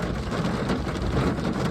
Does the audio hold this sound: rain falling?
yes